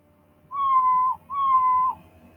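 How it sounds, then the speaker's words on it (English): Two identical, clear cat meows from the Scratch coding program's built-in sound library play one after the other, each lasting under a second with a short gap between them, against near silence. "since I already made the meow sound, I'm going to put the meow up here actually."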